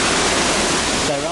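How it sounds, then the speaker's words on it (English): Steady broadband rush of a waterfall in the forest roughly ten miles outside Ketchikan, Alaska, loud and continuous for the whole stretch with a slight shift near the end. "So here we are at this pretty waterfall."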